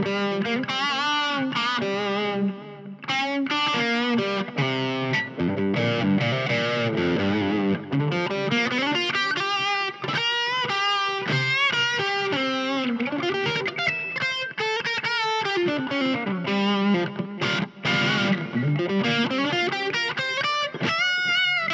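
An EVH SA-126 electric guitar (quilted maple top) on its bridge pickup plays bluesy distorted lines with bends and sustained notes, loud and continuous with no talking.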